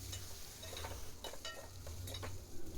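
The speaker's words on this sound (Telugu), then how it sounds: "కట్ చేసి పెట్టుకున్న బీరకాయ ముక్కల్ని యాడ్ చేసుకోవాలి. అవి కొంచెం ఆయిల్లో" Cut ridge gourd pieces fry in oil for a spicy Telangana chutney, a faint, soft sizzle under clusters of light stirring scrapes and taps, heard alone without voices.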